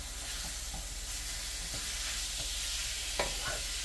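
Chicken frying in a pan being stirred, a steady loud sizzle with occasional scrapes and clinks of the utensil, and no talk.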